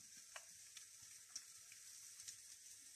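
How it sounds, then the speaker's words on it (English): Garlic frying gently in a pan gives off a faint, steady hiss and sizzle, broken by small soft pops and ticks. "So we're going to sort of cook the garlic off first of all"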